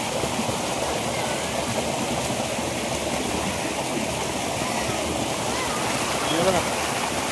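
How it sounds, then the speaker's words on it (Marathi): Water falling in a stream at a spot where tiny fish are caught by a traditional method, a steady broadband rush that stays close and even throughout without a break. "पाणी पण बघा सुंदर असं बघा सुंदर असं पाणी पडतं."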